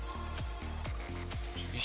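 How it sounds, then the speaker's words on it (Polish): A telephone rings inside the Finnish rural game My Summer Car, with a steady electronic ring tone pulsing through about two seconds over low, thumping in-game background sound. "Oczywiście dzwoni nam znów telefon."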